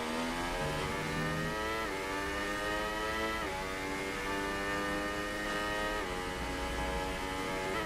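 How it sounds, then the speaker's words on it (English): A Toro Rosso Formula 1 car engine in the F1 2018 racing game revs steadily and loudly, its high whining pitch rising and dropping slightly with gear changes over several seconds. "He's revving out that Toro Rosso."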